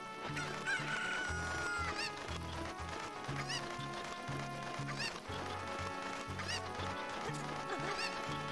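A chicken in The Legend of Zelda: Ocarina of Time clucks and squawks in repeated bursts over steady, busy background music.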